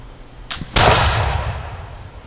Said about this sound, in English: lighting the powder in the barrel, and firing the pistol